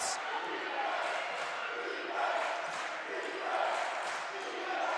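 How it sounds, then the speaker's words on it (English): Home crowd at a Union vs Lindsey Wilson men's college basketball game chanting defense in a packed gym, a steady roar of many voices with rhythmic swells throughout. "Crowd is chanting defense."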